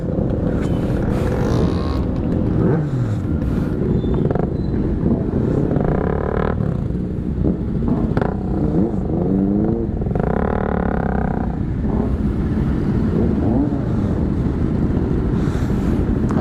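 Group of motorcycles on a charity ride idling and revving together, a loud continuous engine roar with rising and falling rev sweeps, buffeted by wind noise.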